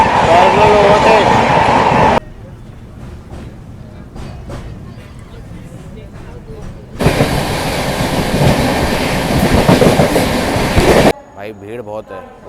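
Mahanagri Superfast Express, train number 22178, runs loud with steady rumble and rhythmic clickety-clack from a crowded sleeper coach, cutting abruptly between louder and quieter stretches, with voices heard at times.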